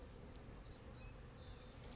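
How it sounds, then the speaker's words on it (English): Bees buzzing steadily around an entrance hole in a radio tower, a continuous faint insect hum with no breaks across the whole stretch, recorded outdoors at a distance. "It had a lot of bee traffic."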